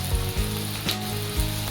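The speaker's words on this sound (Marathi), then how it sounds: "आपण कांदा जरा परतून घेऊया" Onion sautéing in a pan with a cinnamon piece for a traditional black peas curry, a steady close sizzle with a few soft stirring scrapes.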